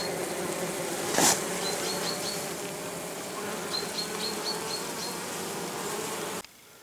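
Bees buzz steadily around log hives in summer heat, a dense close drone with a few passing insects flying near, continuous until it cuts off at the end.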